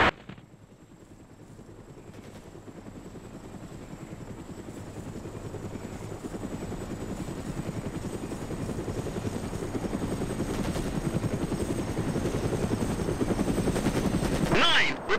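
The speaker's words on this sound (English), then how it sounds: "MI-17-1000." A Mi-17 helicopter in the combat game ArmA Resistance whirs with a steady rotor thump that swells from faint to loud and close, while gunfire rattles intermittently beneath it.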